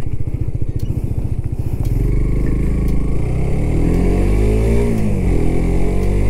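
Suzuki GSX-R125 motorcycle on a test ride, its small single engine idling with a fast pulsing beat, then revving up and climbing steadily in pitch, loud and close.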